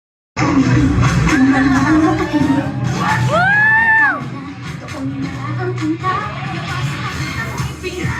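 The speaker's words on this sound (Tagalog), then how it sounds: "isang malakas na palakpakan na may kasamang hiyawan" At a child's seventh birthday party at Jollibee, a crowd cheers loudly with whoops and shouts. Voices rise in sweeping calls over a busy, noisy room, then settle into lower, steady crowd noise.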